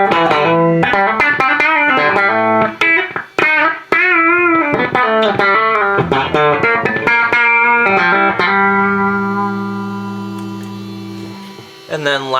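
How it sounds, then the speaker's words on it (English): Electric guitar played through a slapback thickener delay pedal on a 2024 pedalboard, a series of picked chords and single notes with a short doubling echo, ending in a long sustained chord that slowly fades before another strum. "I really like this where I have like a slapback, like just thickener delay."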